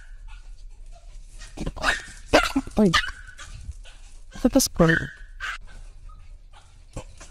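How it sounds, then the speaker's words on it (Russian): A small dog chasing a much bigger dog yaps and barks in short bursts with whimpers, heard from a played-back recording, while a person speaks briefly over it. "почему маленькие собаки гоняются за большими собаками"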